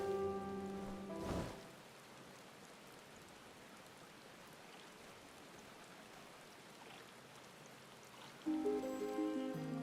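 Steady rain hiss in Final Fantasy XIV: Endwalker during a downpour, soft and continuous at a low level, briefly framed by louder tonal game sounds at the start and end.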